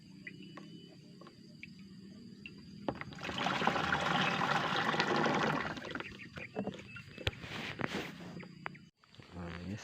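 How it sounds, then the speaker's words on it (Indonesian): A hand pump sprayer pushes water through a two-outlet nozzle on a plot cleared for oil palm and areca palms, giving a hissing spray burst of a few seconds amid outdoor rustling and faint insect sounds. "saya lagi nyemprot"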